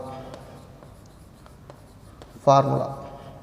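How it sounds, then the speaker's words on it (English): A pen scratches out a kinematic equation for a friction physics problem, soft intermittent scraping strokes close by, joined near the end by a brief burst of talk. "From the data we write the kinematic equation."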